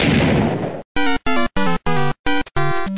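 Old Minecraft Creeper explosion sound effect from versions before 1.0: a loud burst of noise opens, then a series of harsh, tonal blasts follows in quick succession with short gaps between them, with no voices present.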